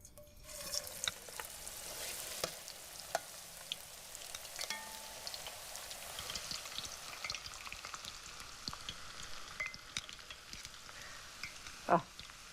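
Food deep frying in hot oil in a home kitchen, a steady soft crackle and fizz with scattered pops and one sharp spurt of sizzle near the end, close by with no talking.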